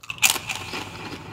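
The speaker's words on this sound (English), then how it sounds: "that crunch was so loud it broke the sound barrier" A homemade dill pickle flavored potato chip bitten close up gives one sharp, loud crunch, followed by a brief crackling tail of chewing.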